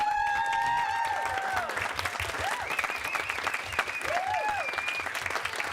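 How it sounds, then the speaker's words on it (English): An audience claps in sustained applause, with a few voices and whistle-like tones rising over the clapping. "How about a round of applause for Jack and Katie?"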